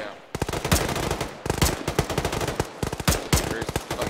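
Bursts of machine gun fire in the ShackTac Arma military game, rapid sharp cracks in repeated volleys with brief pauses between, loud and close.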